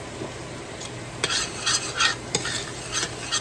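A spoon scrapes and stirs flour into a pan while butter sizzles steadily underneath, with several short scraping strokes close by.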